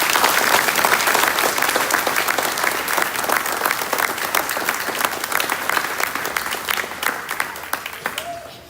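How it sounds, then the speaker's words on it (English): An audience at a Central Elementary School spring concert gives a big, sustained round of applause, dense and loud clapping that fades slightly toward the end. "If we could have a big round of applause for our elementary general music teacher here at Central Elementary School, Mrs. Christy Oates."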